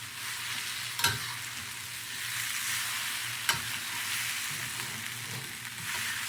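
Onions, broccoli and mushrooms fry in a pan for a vegan mapo tofu, producing a continuous crackling sizzle up close, broken by two sharp utensil knocks against the pan.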